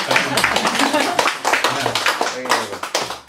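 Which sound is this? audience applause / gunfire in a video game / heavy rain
audience applause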